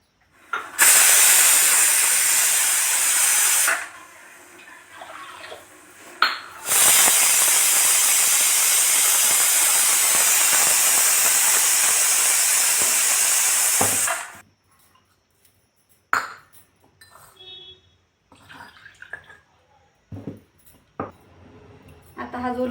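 A pressure cooker vents steam in two long, loud hissing bursts, then stops, leaving quieter kitchen clatter.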